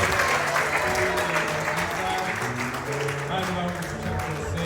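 A church choir gathering bursts into warm applause, many hands clapping steadily and fairly loud for several seconds while a voice speaks over the crowd.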